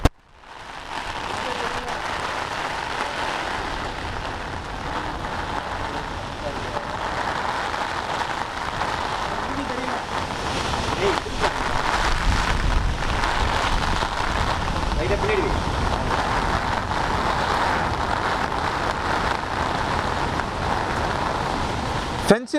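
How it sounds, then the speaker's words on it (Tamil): Heavy rain and strong wind lash Puducherry as Cyclone Fengal makes landfall, a dense, unbroken roar of downpour and gusts that swells louder midway and holds for over twenty seconds. "மழையும் பார்க்க முடிகிறது, காற்றையும் பலமாக பார்க்க முடிகிறது."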